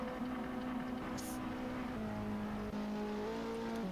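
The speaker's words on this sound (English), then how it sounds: "What's the engine sound?" A steady, droning engine hums with small shifts in pitch, like a car in a racing game, fairly quiet and continuous.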